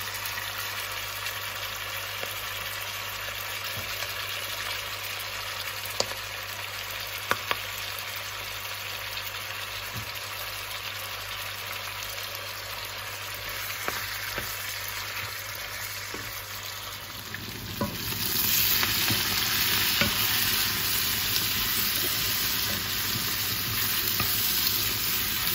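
Onion hitting a hot pan with squid, a steady close sizzle that swells louder and brighter about two-thirds through as the onion goes in, with an occasional light clink of a utensil, no talking.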